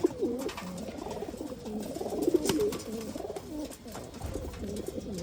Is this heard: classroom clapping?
no